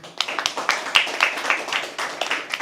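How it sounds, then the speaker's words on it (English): A small audience at a poetry open mic at The Habitat claps for performers, a sparse, close patter of individual hand claps rather than a full ovation. "Can we please have a round of applause for them?"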